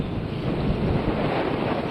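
Strong wind roars steadily across a boat's microphone on open Atlantic water, a dense continuous buffeting with the wash of waves beneath, loud and unbroken throughout.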